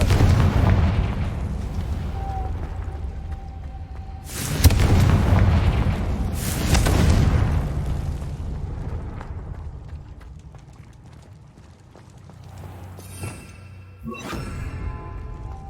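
A Confringo blasting spell explodes in Hogwarts Legacy, two loud close booms a couple of seconds apart followed by a decaying rumble, then lighter crackling bursts near the end, with no talk.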